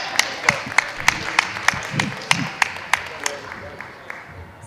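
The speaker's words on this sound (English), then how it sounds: "Give them a round of applause, guys." Applause for the Green Rangers at a Power Morphicon 2024 convention panel is dominated by one sharp, regular clap near the microphone repeating about three times a second. Softer clapping and murmuring from the room sit underneath.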